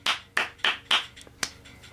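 Hands clapping about half a dozen times in a quick, slightly uneven rhythm, close and fairly soft, with no talking.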